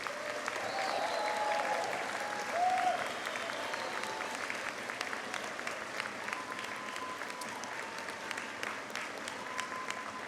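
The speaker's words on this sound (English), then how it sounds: "a round of applause?" A large outdoor audience at Denison University's Class of 2025 commencement claps in sustained applause for graduates' families, steady and fairly distant, with faint whistles and voices scattered through it.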